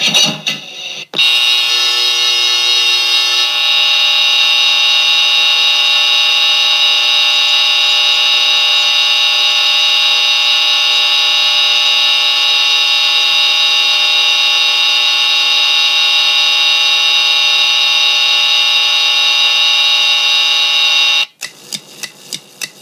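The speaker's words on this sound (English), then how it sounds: "I am going to pull the fire alarm as a prank" A school fire alarm rings continuously and loudly, a harsh electronic buzzing tone held steady for about twenty seconds before cutting off abruptly.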